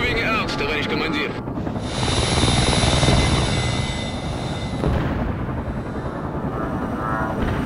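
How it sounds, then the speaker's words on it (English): Mi-24 attack helicopter flying at full speed in the World in Conflict modern-warfare game, a loud continuous rotor roar and rumble with a high whine, swelling midway and holding steady throughout. "MI-24 going in at full speed"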